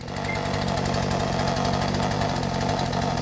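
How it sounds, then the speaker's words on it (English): A Poulan chainsaw fitted with a new Hipa carburetor idles steadily, its small two-stroke engine putting out a continuous close, loud, even rumble with a fast regular pulse and no talk over it. "here we go. She's idling, and it seems to be idling fine."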